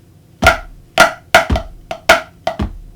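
Sharp snare drum strokes, close and crisp: a series of flams and quick taps in an uneven sticking pattern, including a dot and cut paradiddle, played alone with no talking.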